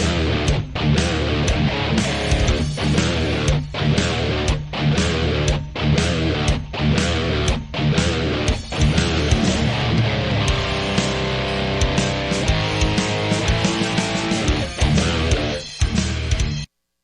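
A riff on heavily distorted electric guitar played over a backing track with drums, loud and driving, with punchy hits recurring in a steady groove and sustained chords toward the end before an abrupt stop.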